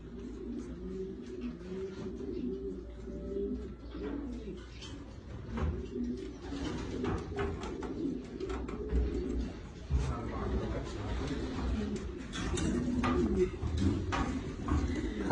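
Racing pigeons of a Leo Heremans bloodline coo inside a loft, a dense, continuous chorus of soft, throaty rolling coos from several nearby birds, overlapping steadily for the whole stretch with faint background rustling.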